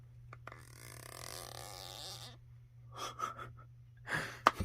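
A Spigen Tough Armor case on a Samsung Galaxy Z Flip 3 gives short, raspy fart-like squeaks from its hinge, heard in a few brief bursts near the end after a stretch of broadband rustle.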